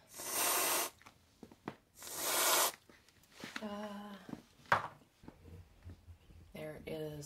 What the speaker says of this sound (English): Now I'm going to take some canned whipped cream and just put a little bit.